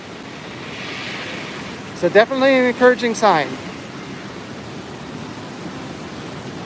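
Steady rushing water fills a flooded area in a Popeye and Bluto's Bilge Rat Barges video game, a continuous broad wash running throughout, with a voice speaking briefly over it midway.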